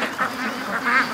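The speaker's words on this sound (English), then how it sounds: "the little ducks playing in the water" Ducklings quack in swamp water, a handful of bright, nasal calls spaced irregularly over a second, fairly close and clear above a soft watery background.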